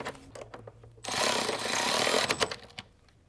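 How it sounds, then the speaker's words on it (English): Power tool running on a bolt of a BMW X5 during transfer case and differential work, a steady loud two-second burst of whirring between softer clicks and taps. "With a 16mm socket and ratchet on the bolt side and an 18mm socket and ratchet on the nut side, we're going to reinstall this bolt"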